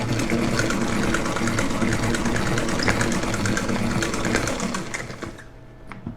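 A steady mechanical whir with watery rattling runs for several seconds, then winds down and fades near the end, like a salad spinner spun hard.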